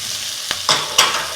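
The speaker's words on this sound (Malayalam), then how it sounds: "ഞാൻ ടൊമാറ്റോ ഇടുന്ന വീഡിയോ." Chopped medium-size tomatoes tipped into a hot pan for a Kerala shallot-tamarind curry, giving a quick series of three sharp sizzling bursts over a steady low background hiss, fairly near with no talking.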